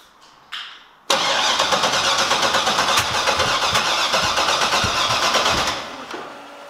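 A Corvette C6 drift car engine cranks briefly, fires loudly and settles into a rough, pulsing run close by, then drops in level just before the end; no voices.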